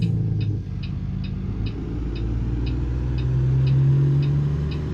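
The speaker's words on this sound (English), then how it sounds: "Really liking the sound of the Cummins engine too." A deep Cummins diesel engine in a Peterbilt 389-style truck in American Truck Simulator rumbles steadily at low revs, with a faint regular ticking on top and the pitch rising slightly toward the end.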